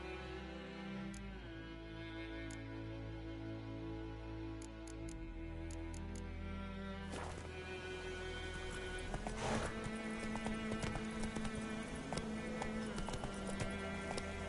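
Roach, the horse in The Witcher 3 video game, gallops in a rapid, rhythmic clip-clop of hooves that runs steadily beneath game music. Occasional game noises rise over the hoofbeats.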